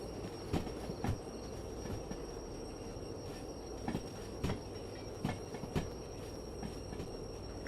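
A train rolling past in the DV Sim video game, a continuous rumble with sharp rhythmic clacks of wheels over rail joints repeating every half second or so, fairly loud and without talk.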